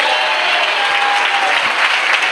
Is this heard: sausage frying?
no